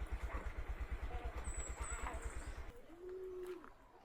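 A motorcycle engine putters steadily in the foreground, its low rhythmic thrum dropping off partway through, with birds chirping faintly overhead.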